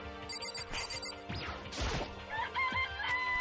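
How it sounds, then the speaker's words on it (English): Rooster crowing in the video game Danganronpa, a loud crow with clucks and a crashing hit layered over continuous game music and effects, no voices. "It's a chicken."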